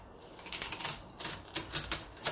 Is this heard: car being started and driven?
no